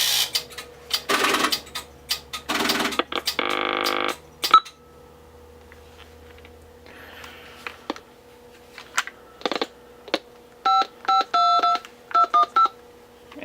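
A Sage 930A telephone test set dials a test line, sending a series of DTMF tones: early longer tone bursts, then quick, evenly spaced beeps in clusters, with clicks between them.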